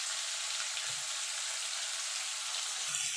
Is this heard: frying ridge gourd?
yes